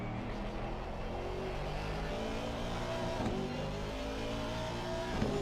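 An Aston Martin GT3 race car powers out of a corner at Circuit of the Americas, its engine holding a steady, dense roar under acceleration with a few faint bumps near the end, and no voices.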